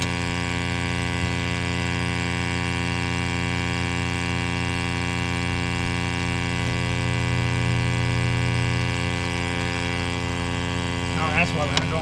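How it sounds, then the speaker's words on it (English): A vacuum pump runs steadily while drawing oil out of the injector bores on a 7.3 Powerstroke engine, a constant mechanical hum with strong tonal layers, close and unchanging, with a few faint clicks near the end. "we're going to stick the vacuum pump down in the holes and back it out"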